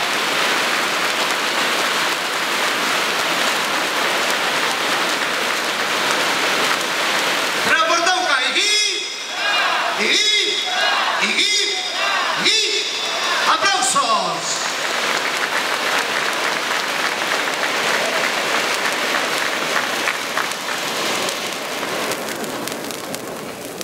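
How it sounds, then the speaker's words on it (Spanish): Applause from an audience celebrating the Casa Tauquina association's silver anniversary, a burst of clapping of about seven seconds that rises suddenly out of a steady murmur of a crowded hall and then fades back into background noise. "Aplausos para la Asociación Casa Tauquina y la celebración de sus bodas de plata."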